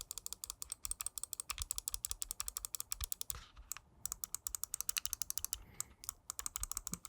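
Side buttons of a Razer Viper Ultimate wireless gaming mouse clicked close up, producing quick, sharp, light clicks in steady runs with a couple of short pauses.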